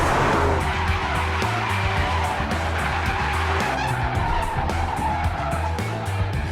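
A Ford Focus RS hot hatch driven hard on Provence roads, its tires skidding and squealing continuously over a loud, steady engine roar with rhythmic gear and throttle changes, close and sustained throughout.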